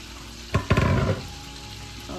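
Shrimp hit a hot pan with minced garlic, setting off a burst of close sizzling and spattering that swells for about half a second and then settles back to a low background hiss.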